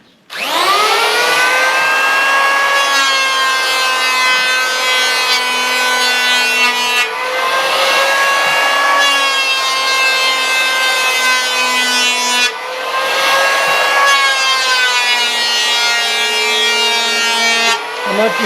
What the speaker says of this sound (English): let's just run that planer down here